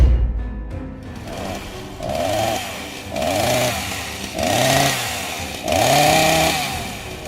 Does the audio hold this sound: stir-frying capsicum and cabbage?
no